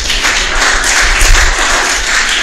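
Audience applause at a Sabbath Torah-portion gathering, a dense, steady wash of many hands clapping with no talk over it.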